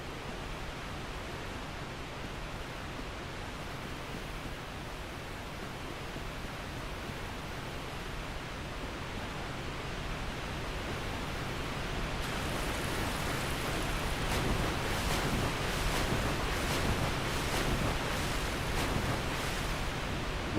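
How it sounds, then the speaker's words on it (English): Loud rushing water in Dark Souls Remastered, a steady broadband roar that runs throughout and swells a little louder in the second half. "Why is the water so loud?"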